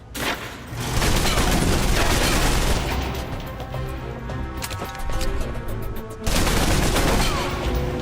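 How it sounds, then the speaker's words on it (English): Submachine gun fire in the video game Alpha Protocol: loud rapid bursts of automatic gunfire in close quarters, sustained chattering volleys with brief pauses and booming impacts, no speech. "If you're trapped in close quarters with multiple opponents, the SMGs can help clear the room quickly. Not subtle or quiet"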